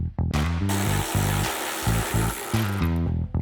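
A 12mm tool loosens the hood bolts on a 2010-2013 Toyota 4Runner, heard as a loud, close, buzzing motor whir in several short bursts with brief pauses between them.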